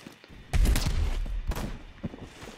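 Gunfire in the shooter game Phantom Forces: a sudden burst of rapid shots opens with a heavy thump, then trailing reports and a final isolated shot, moderately loud, with no speech over it.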